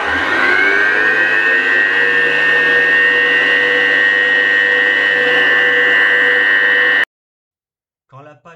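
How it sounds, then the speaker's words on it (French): Stand mixer on low speed kneading brioche dough, a loud, steady motor whine with a droning hum lasting about seven seconds before cutting off abruptly, followed by a brief voice. "si vous avez des vitesses différentes sur vos batteurs, vitesse 1, on laisse mélanger bien comme il faut"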